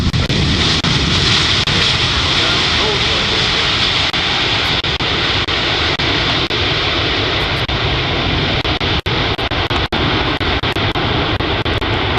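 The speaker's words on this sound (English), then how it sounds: "And watch the departure of the A-400 Airbus as well." An Airbus A400M military airlifter departs at the Farnborough 2014 air show, its loud, sustained turboprop engine roar filling the whole stretch without a break.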